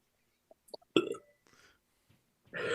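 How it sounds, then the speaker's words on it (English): A person lets out one loud, close burp after a few small mouth clicks, followed by a brief rustle and a burst of broadband noise at the end. "he kind of just burps"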